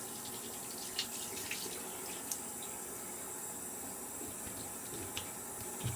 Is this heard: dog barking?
no